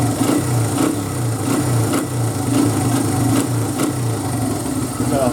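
A 2002 Honda XR100R dirt bike with a previously bad carburetor idles steadily up close, a loud, even single-cylinder putter with a regular pulsing rhythm and faint voice underneath.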